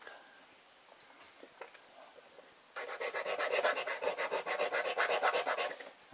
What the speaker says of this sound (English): in case you have one crack while you're sanding it